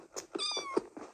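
A cat meows repeatedly in the Minecraft video game, with several short, close, clear meows in quick succession and no talking.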